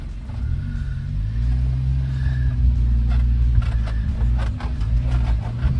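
A Subaru Sambar kei truck's small engine runs quietly and steadily on a test drive, a smooth low rumble with faint rattles over the top.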